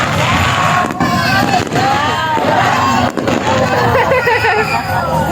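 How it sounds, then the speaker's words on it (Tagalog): Fireworks boom and crackle over a busy crowd at a Christmas lakeside event at TLC Park in Taguig, with dense chatter and a steady wash of bangs mixed together, while people talk nearby. "May fireworks daw eh."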